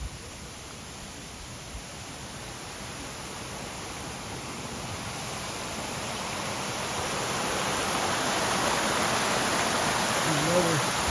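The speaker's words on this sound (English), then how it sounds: "These are beautiful little waterfalls." Small waterfalls in a beech forest produce a continuous broadband rush of falling water, steady and close, growing gradually louder over several seconds.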